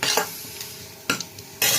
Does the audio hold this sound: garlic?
yes